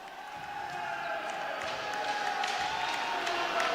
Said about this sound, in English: And a huge cheer from the Dutch bench